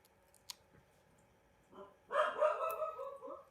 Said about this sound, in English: My little dog's making noises.